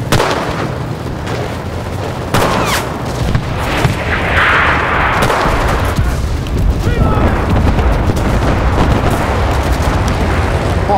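A tank fires in the Enlisted video game, deep loud booming blasts over a constant rumbling battle din, with players talking over it.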